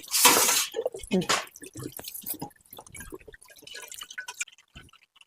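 Water splashes and drips in bursts as a jar is rinsed by hand, close and fairly quiet, with scattered clinks and short gaps between pours; voices talk faintly nearby.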